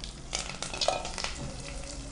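Dry red chillies and curry leaves fry in a pan with a soft, steady sizzle and a few scraping stirs, fairly faint and with no voices.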